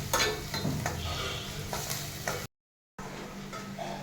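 Onions sizzling steadily in a hot pan with occasional stirring scrapes and light utensil taps, close and continuous, briefly cut to silence before the frying resumes, no voices.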